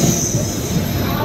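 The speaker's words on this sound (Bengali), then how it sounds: "এখন বাজছে 8:40, আমাদের ট্রেন ঢুকছে।" The Kovai Superfast Express pulls into a station with loud, sustained wheel squeal, a high steady screech over rumbling, pulsing rail noise.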